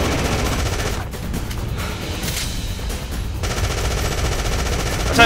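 Enemies fire guns during a boss fight in the video game Afterfall Insanity, a loud, continuous stream of automatic gunfire with no break and a heavier thump at the very end.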